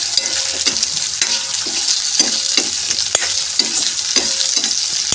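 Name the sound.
potatoes and french beans added and stirred in pan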